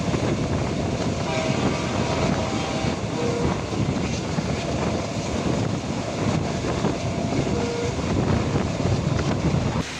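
The Pallavan Express, a diesel-hauled train running from Chennai Egmore to Karaikudi, rumbles steadily along the track with loud continuous rolling noise and gusty wind buffeting close by, with no voices.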